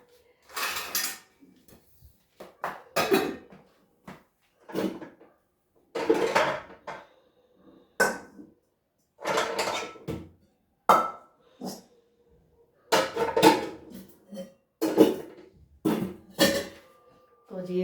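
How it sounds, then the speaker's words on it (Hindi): A kadai (wok) being washed in a home kitchen, with scattered metallic clanks, scrapes and clatters of the pan and utensils, intermittent and close, while someone talks and a dog barks in the background. "तो जी ये कढ़ाई धो लेती हूँ मैं।"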